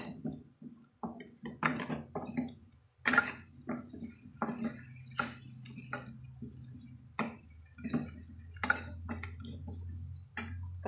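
A spoon stirs ground coriander and cumin powder into a pot of mango curry, giving a run of close, quiet scraping and clinking knocks against the vessel at an irregular rhythm, with no talking.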